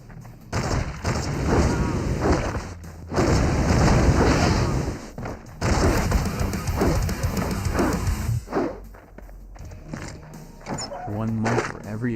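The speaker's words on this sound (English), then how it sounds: "30 explosions in 20 seconds" Explosions from the Fallout: Brotherhood of Steel video game on PS2 come as a dense run of booming blasts and gunfire-like bursts, loud and packed together, with short gaps between clusters.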